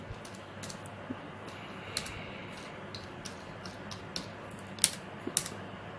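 Keystrokes on a computer keyboard while entering ledger details in Tally software, irregular clicks and taps at close range, some louder bursts toward the end, over quiet room tone.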